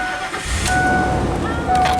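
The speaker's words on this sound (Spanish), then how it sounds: "ya el vehículo encendió" A 2003 Ford Expedition with a no-start fault cranks and fires up, a short engine catch under a couple of high electronic tones, with a voice briefly in the background.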